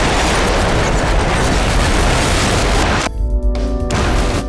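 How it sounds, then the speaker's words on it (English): Demolition charges blow the conveyors at Blyth Power Station, a loud, sustained roaring blast rumble that fills the air for about three seconds before cutting to a brief dip and continuing low rumble. "The smallest conveyor exploded first."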